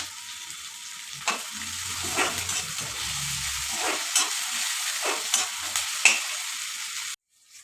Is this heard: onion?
yes